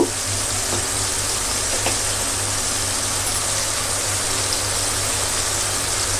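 Spice paste frying in a pan gives a steady, dense sizzle that holds at an even, fairly loud level throughout, with a low background hum and no voices.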